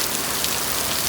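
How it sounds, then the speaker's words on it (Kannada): Heavy rain in Mangalore pours down in a steady, loud, dense hiss with no pauses, drumming evenly on surfaces and heard alone. "ಮಧ್ಯದಂಗೆ ಜೋರು ಮಳೆ ಬಂತು."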